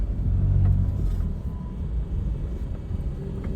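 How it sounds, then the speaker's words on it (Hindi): Inside the cabin of a Tata Intra V20 pickup truck with the AC running, a low, steady engine rumble and hum fills the space, slightly louder at the start and then even. "तो गाइस अभी गाड़ी में एसी चल रहा है, तो अभी आप इसका साउंड पहले फील करो कि केबिन के अंदर कैसा साउंड आ रहा है"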